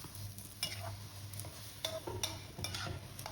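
Mussels with basil are stir-fried in a pan, with repeated scraping strokes of the spatula over a low frying sizzle, close and fairly quiet.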